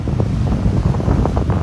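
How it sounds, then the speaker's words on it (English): A strong gust of wind pounds the microphone during crazy weather at sunrise, giving a loud, continuous rumbling buffet with uneven surges and no voices. "Oh, there's another big gust."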